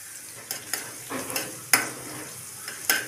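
Ginger and green chilies stir-fried in a pan while cooking vegetable hakka noodles: a soft steady sizzle with several sharp scraping stirs of a spatula, close and moderately quiet, no talking.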